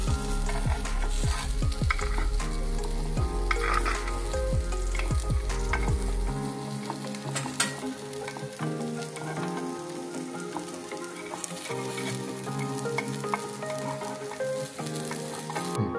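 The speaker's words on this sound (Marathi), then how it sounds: "अप्पे होत आलेले आपले, परतून घेऊया।" Corn appe fry in a dense, continuous sizzle and crackle in an appe pan, with occasional light taps and clicks as they are turned, close and steady throughout.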